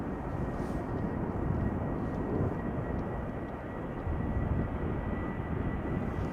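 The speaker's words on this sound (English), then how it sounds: "This is a 737-800 outbound to Manchester, KLM flight 1073." A KLM Boeing 737-800 jet airliner departing Schiphol Airport for Manchester, heard as a steady broadband engine roar that holds at an even level throughout, fairly distant, with no talking.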